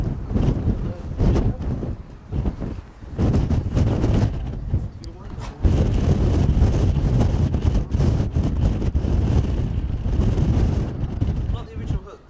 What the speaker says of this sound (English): I'm getting battered up here. Very windy, folks. Very windy indeed.